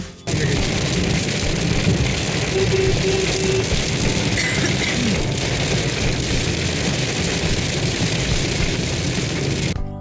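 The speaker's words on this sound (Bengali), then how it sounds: "মুষলধারে বৃষ্টি হচ্ছে একদম রাস্তাঘাট পুরো সাদা হয়ে গেছে" Heavy downpour heard from inside a car on a road trip, a dense, steady roar of rain drumming on the roof and windows that stays loud and unbroken throughout.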